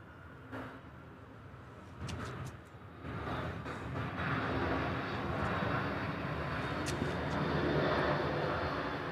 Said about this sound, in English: at least this is an aircraft we don't ordinarily see at DFW Airport